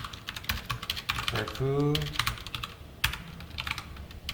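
Keyboard typing while writing Python code, a run of quick key clicks heard under someone speaking Korean throughout.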